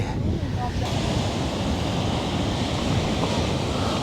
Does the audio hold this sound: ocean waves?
yes